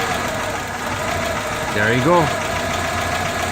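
A 2001 Toyota Camry engine idles during an EGR vacuum test, a steady close-up hum with a slight dip in pitch while someone speaks briefly over it.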